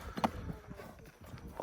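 A horse for sale steps along with irregular hoof clip-clops, several soft thuds close by over a quiet background, with faint rustling between the steps.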